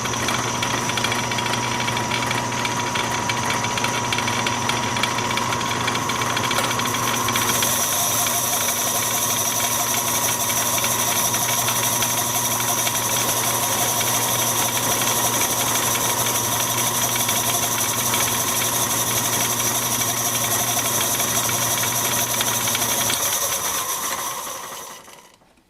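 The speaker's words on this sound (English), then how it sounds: "Now I'm going to face this end off and center drill it." A Craftsman lathe facing off the end of a tailstock quill, its motor humming with a steady tonal drone and a continuous cutting whine, loud and even throughout before winding down at the end.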